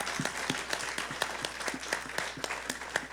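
A church congregation applauds steadily, the sound fairly faint and spread out in a large room, with individual claps standing out in a continuous patter.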